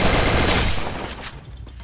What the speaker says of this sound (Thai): เฮ้ยลูกซอง